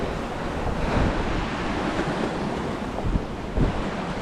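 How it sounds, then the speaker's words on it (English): Ocean surf surges and splashes against rocks on a rocky shoreline as the tide comes in, a steady loud wash with heavier bursts near the end, roughened by wind buffeting the microphone. "there's been a couple waves that have splashed up"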